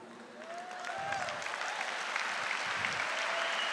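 Applause from a large crowd of faithful at a religious gathering, faint and distant at first, then swelling into a steady sustained wash of clapping that holds to the end.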